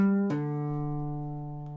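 A guitar plays a 5-0 pull-off on one string: a single plucked note drops cleanly to the open-string pitch and rings on alone, close and clear.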